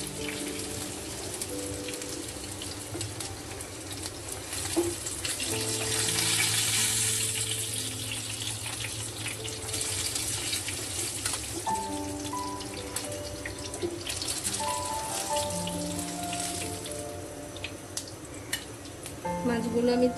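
Koral fish frying in hot oil, a steady loud sizzle and bubbling that continues throughout, with utensil scrapes as the fish are lifted out.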